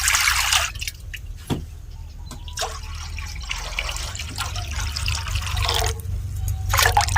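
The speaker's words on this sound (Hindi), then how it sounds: "पानी को हम डाल लेते हैं।" Water pours and splashes into a cooking pan in bursts, with drips and a trickle between pours, close and fairly loud.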